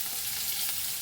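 Onion sautéing in hot oil in a pan for a lady's finger curry, a steady, even hiss of sizzling heard close and alone.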